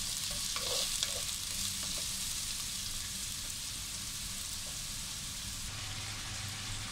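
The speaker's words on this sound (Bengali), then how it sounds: "আমি মাছটা বেজে নিচ্ছি বেগুনটাও বেজে নিচ্ছি" Rohu fish pieces and eggplant fry together in a pan, a dense continuous sizzle with soft stirring scrapes, close by and steady throughout, no voices.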